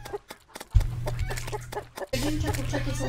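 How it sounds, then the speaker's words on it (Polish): Chickens cluck in the Terraria video game, a run of short clucks and bird calls over a steady low game hum that thickens into a busier burst of sound toward the end. "jak to jest kurczak jeżdżący na kurczaku?"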